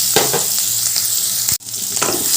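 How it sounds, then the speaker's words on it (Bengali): Chopped onion frying in hot oil with whole spices, a loud, bright sizzle close up, broken by several spatula scrapes and one sharp clatter mid-way, with no one speaking. "এবার পেঁয়াজটা ভালো করে ভেজে নেব"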